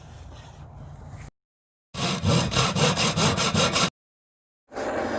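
Table saw with a tapering jig trimming the edge of a wooden board: a loud, close run of rhythmic rasping cuts, set off by silent gaps and softer machine noise before and after.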